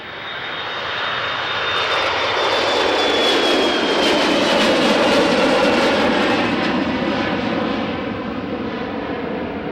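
An airliner's jet engines roar during takeoff from runway 36L at Schiphol Airport, swelling from a distant rumble to a loud broadband rush with a thin high whine, then slowly fading.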